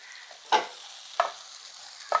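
Sliced mushrooms drop into beans frying in a pan for a thoran, giving three separate sizzling bursts about a second apart over a faint, steady background hiss, with no talking.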